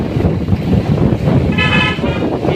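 Wind gusting steadily through dense fog on a hilltop at Sajek after rain, a loud broadband rush throughout with a brief tonal horn-like whistle near the end.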